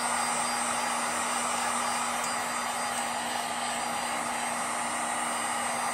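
A dual-temperature heat gun blows a steady, close, whooshing airstream without pause onto a Dollar Tree foam pumpkin that is being aged to look rotten.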